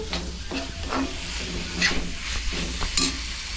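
Onions fry with a steady sizzle in a pan while a spoon stirs them in repeated scraping strokes, close and continuous, with small clinks of metal.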